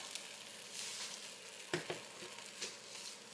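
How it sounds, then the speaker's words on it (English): An egg is scrambled in a hot pan with bacon, onion powder and green onion, giving a steady soft sizzle with a few brief scraping stirs, close and fairly quiet, with no talking. "Now you're just going to scramble this egg up however you normally scramble your eggs"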